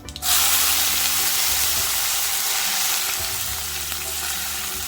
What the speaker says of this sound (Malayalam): കടുക് പൊട്ടി വരുന്ന സമയത്ത് നമുക്ക് നേരത്തെ അരിഞ്ഞു വെച്ചിരിക്കുന്ന കൊച്ചുള്ളിയും കറിവേപ്പിലയും മുളകും ഒക്കെ ഇങ്ങോട്ട് ഇട്ട് കൊടുക്കാം